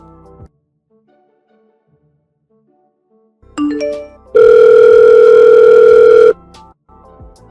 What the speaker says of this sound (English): Why don't you pick up your phone? I've called you so many times, but you never answer.